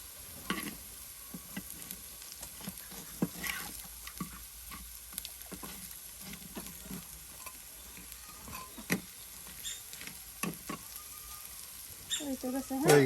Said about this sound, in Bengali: একদম মচমচে ভাজা হয়ে গেল